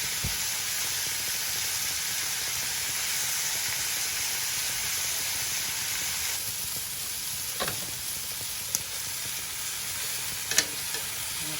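Jerk pork sizzling on a grill, a loud steady hissing crackle throughout with a few small pops and ticks near the end.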